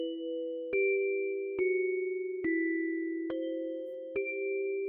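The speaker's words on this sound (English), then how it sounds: "So it actually kind of started with that bell sound." A bell sound in a music piece: five clear struck tones spaced evenly, each ringing on with a sustained, shimmering pitch against silence.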